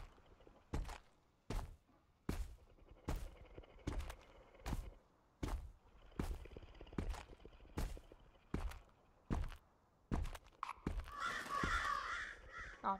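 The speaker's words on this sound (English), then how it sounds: "Oh, that was just a crow." A crow caws loudly in a steady series of about a dozen harsh calls spaced roughly evenly, heard outdoors near a cornfield, with a brief rustling burst near the end.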